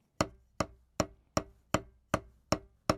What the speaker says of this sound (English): now we're playing the double stroke roll